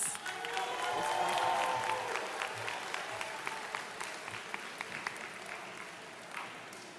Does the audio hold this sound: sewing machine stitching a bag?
no